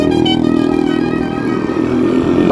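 A motorcycle engine runs steadily nearby on a hired bike ride at Saputara hill station, a loud continuous drone with a slight rise toward the end, no voices.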